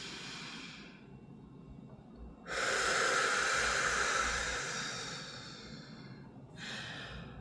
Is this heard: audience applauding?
no